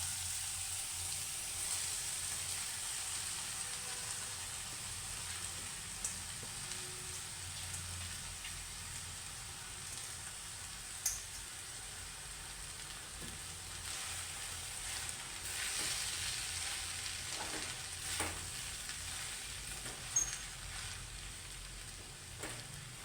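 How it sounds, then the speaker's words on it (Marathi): Poha tossed into a hot tempering in a pan gives a faint, steady sizzle, with occasional scrapes and clicks of stirring throughout. "आता ह्याच्यामध्ये आपण आता पोहे टाकूया."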